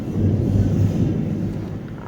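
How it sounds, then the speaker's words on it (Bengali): Loud thunder outdoors in the morning, a deep rumbling roll that stays heavy and continuous throughout before easing slightly at the end. "কি জোরে জোরে মেঘ ডাকছে।"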